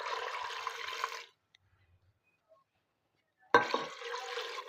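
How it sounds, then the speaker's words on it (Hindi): Water is poured into a pot of beef pulao, about half a kilo of it, in two steady splashing pours that sound close, with a silent gap between them. "अब इसमें हम डाल देंगे तकरीबन ½ kg पानी।"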